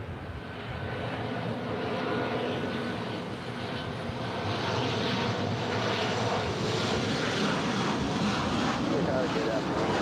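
An airliner approaching to land on runway 24 right at LAX, its jet engine roar a steady, fairly close broadband rumble that slowly swells over the span, with wind noise and faint voices underneath.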